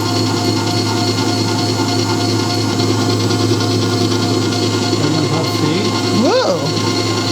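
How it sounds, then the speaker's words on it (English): A Zacme 8.4 quart stand mixer whisks with a large whisk, giving a steady, fairly quiet motor hum and whir that runs throughout, with a brief voice exclamation near the end. "It's very quiet. It's a very quiet mixer."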